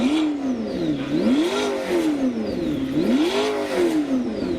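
A McLaren P1 supercar's engine revs repeatedly at a parade, its note swelling and falling in a regular rhythm of blips, close and loud with no voices over it.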